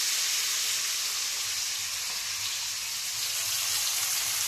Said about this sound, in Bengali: একটু মাছ ভাজাটা করে দিই।